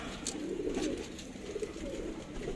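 A newly acquired breeding racing pigeon coos softly in a low, murmuring rhythm against faint background noise.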